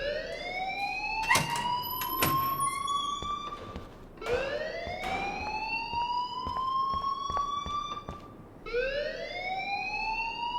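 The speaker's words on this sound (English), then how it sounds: "please turn off that alarm since that's your job" A school alarm in the video game Life is Strange sounds as a rising electronic wail that repeats in long cycles, loud and continuous, with clicks and clatter around it.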